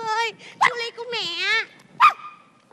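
A person in a Vietnamese Lunar New Year comedy skit imitates a dog, giving a few whining, yelping bark-like cries in bursts with short gaps, close and fairly loud.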